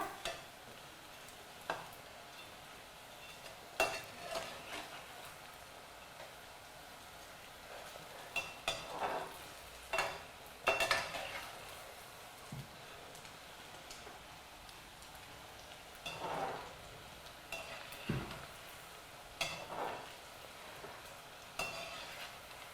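Buttermilk kodubale frying in hot oil until crisp and golden brown, a soft steady sizzle with scattered pops and crackles and occasional stirring clinks, fairly quiet and close.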